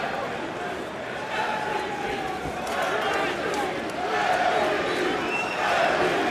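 A large crowd roars and murmurs throughout a Bellator MMA cage fight, a steady swelling din with scattered shouts that rises louder toward the end.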